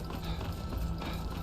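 Steady clip-clop of hooves from a horse-drawn cart trundling along in Skyrim, a soft, even rhythm of hoof falls over a low rumble, with no voices.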